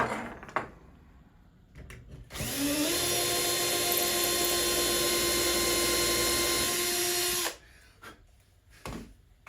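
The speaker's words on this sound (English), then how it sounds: "Drill the hole." A power drill whirs steadily for about five seconds drilling a hole in a wooden cabinet shelf, rising briefly in pitch as it starts, with a few clicks and bumps before and after.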